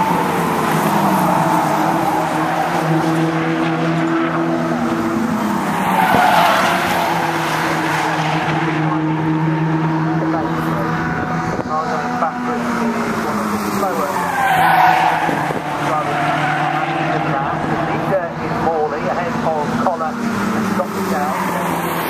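Locost race cars howl past at Silverstone during a racing final, a continuous loud roar of engines and shifting tones with tire squeal, as a commentator talks over the whole stretch.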